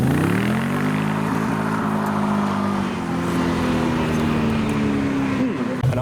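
A Nissan Nismo leaves a car show with a loud, sustained engine roar that holds a steady pitch close by, and voices talk under the noise.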